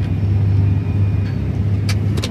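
Steady low idling rumble of a potato farm truck engine during loading at harvest, close and loud, with a couple of faint higher clinks near the end and no talk.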